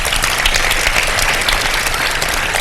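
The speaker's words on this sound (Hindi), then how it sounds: "मायरा के लिए बहुत सारी तालियां" Studio audience applause for a child storyteller named Maira on a live iftar TV show, a dense, loud, steady wash of clapping filling the whole moment with no talk.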